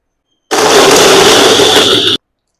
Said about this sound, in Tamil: நல்லா ஆறினோடனே ஒரு பிளெண்டரில் போட்டு குறைன்னு அரைச்சிக்கோங்க